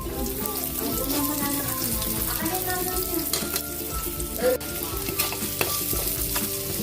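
Garlic and onion sauté in oil in a pan, a loud, steady sizzle with frequent scraping stirs and clinks of a utensil against the metal.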